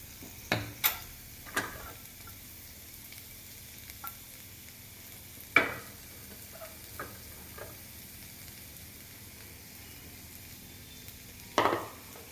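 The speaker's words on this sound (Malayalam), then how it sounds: "നമുക്ക് അല്പം വെളിച്ചെണ്ണ ഇതിലേക്ക് ഒഴിച്ചു കൊടുക്കാം." Coconut oil heats in a hot pan for a kids' omelette, giving a faint, steady sizzle broken by a few sharp pops and crackles spaced several seconds apart.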